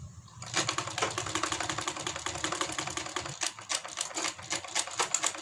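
Sewing machine stitching a round seam on a kurti sleeve, a rapid, steady mechanical clatter of the needle running continuously with brief changes in pace, close and clear.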